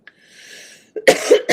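A single person coughs during a morning talk show, preceded by a faint breath, then two or three sharp, close bursts in quick succession.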